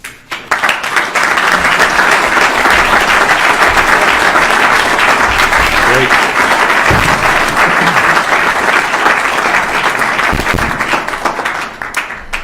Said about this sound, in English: That is a well-deserved round of applause.